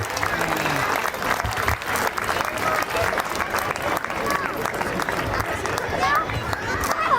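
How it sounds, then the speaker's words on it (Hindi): Thunderous, continuous applause from a crowd at a school prize distribution at Ramana Public School in Raipur, with murmuring voices and some chatter running underneath the clapping throughout. "अच्छा लगेगा यदि तालियों की गड़गड़ाहट हो।"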